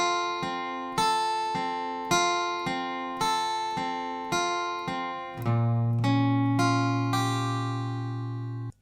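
An acoustic guitar picks a repeating riff of plucked notes in a steady rhythm, then lets a full chord ring out near the end.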